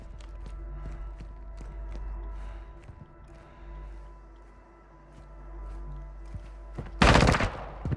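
Distant gunfire crackles in a Call of Duty: Modern Warfare II battle royale match over a low engine-like drone, with scattered footsteps and a sudden loud burst near the end.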